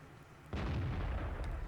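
A tank gun in a tank video game replay fires an armor-piercing shell, giving a single sudden booming blast that rolls on with a rumbling tail, moderately loud and unaccompanied by talk.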